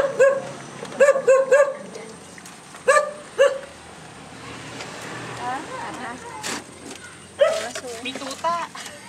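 Puppy barking and yipping in several sharp bursts, close by, with people talking around it and between the barks.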